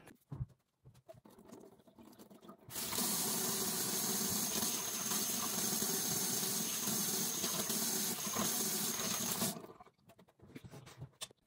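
Tap water runs hard and steady into a sink for about seven seconds while cucumber is washed under it, beginning and stopping abruptly, with quiet room sound on either side.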